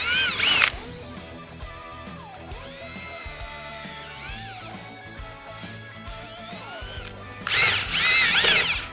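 A handheld power drill fitted with a 1/8 bit bores a hole through aluminum, whirring close and loud. Its pitch rises and falls as the bit spins up, bites and backs off, with a sharp high burst near the start and again at the end.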